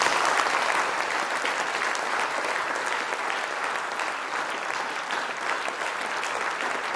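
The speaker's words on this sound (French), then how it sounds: "Et on les applaudit." Steady applause from an audience at an archaeology awards closing ceremony, dense continuous clapping held at an even level throughout with no voices over it.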